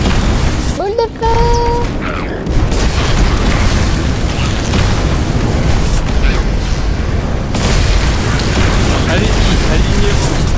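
Fireball spell explosions from the video game Magicka come as loud, rumbling booms and bursts that fill the whole stretch, with players' voices chattering over the blasts.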